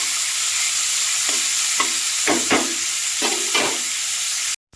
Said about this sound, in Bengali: এবার পেঁয়াজটাকে আমি তেলের মধ্যে ভেজে নেব